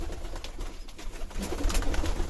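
Pigeons cooing in a winter loft, with soft bursts of wing and body scuffling as the birds peck at each other, steady and fairly close, with no voices.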